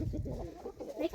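A rooster's clucking calls close by, a dense run of throaty vocalizations filling the whole short moment with no talk over it.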